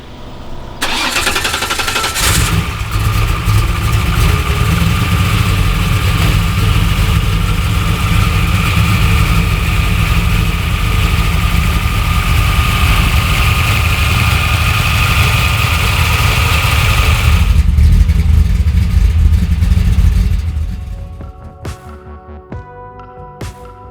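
A high-horsepower street V8 cranks and fires, then settles into a loud, rumbling idle close by for nearly twenty seconds. It shuts down near the end, followed by faint ticking.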